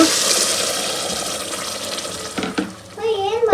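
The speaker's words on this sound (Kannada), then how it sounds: "ಇವಾಗ ನೀರು ಎಷ್ಟು ಬೇಕೋ ಅಷ್ಟು ನೋಡಿ ಹಾಕೊಳ್ಳೋದು" Water poured into a pan of fried beans and masala for a thick bean curry makes a loud, steady rushing hiss for about two and a half seconds, then eases as a voice begins speaking.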